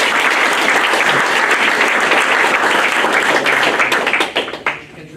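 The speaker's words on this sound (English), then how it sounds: "let's give her a round of applause for" An audience at a school district board meeting applauds, and the loud, full clapping holds steady before tapering off in the final second.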